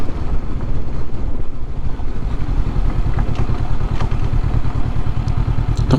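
A Honda CB500X motorcycle rides along a rough road, giving a steady, loud low engine drone with heavy wind buffeting over the microphone and no pauses.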